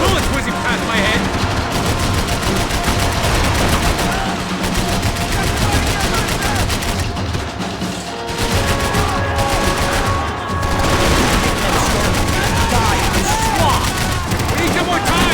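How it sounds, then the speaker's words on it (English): Dense, continuous gunfire in the Max Payne 3 video game, rapid overlapping shots and bursts with bullets whizzing past, loud and close, with a few short gaps and a busy game mix running under it. "I can't concentrate with bullets whizzing past my head!"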